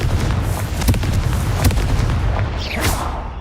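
Fantasy spell blasts from Confringo casting in Hogwarts Legacy: loud, booming explosive bursts that repeat over a continuous rumbling bed, with a whooshing magical sweep near the end.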